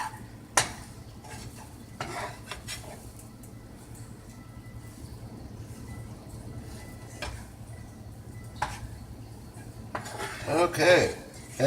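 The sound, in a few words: stirring roux in a pot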